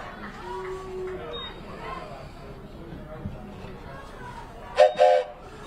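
A voice imitates a train whistle, two short, loud whooping blasts near the end, following crowd and commentary noise at a women's football conference championship game.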